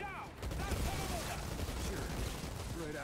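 Rapid gunfire bursts in the shooter game Outriders, a dense rattle of shots and impacts running throughout, with someone talking over the firing.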